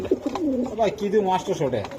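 Budapest pigeons coo repeatedly in soft, throaty bursts close by at a pigeon sale, with voices of people talking mixed in throughout.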